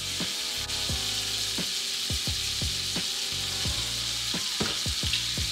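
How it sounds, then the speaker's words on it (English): Garlic paste fries in a pan with a steady bright sizzle, while a utensil repeatedly stirs and scrapes, giving regular knocks against the pan. "And we're gonna stir it up."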